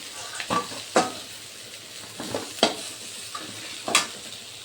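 Prawns coated in salt and turmeric frying in a pan, a low soft sizzle broken by several sharp scrapes and clinks of a spatula stirring against the metal, fairly quiet with no talking.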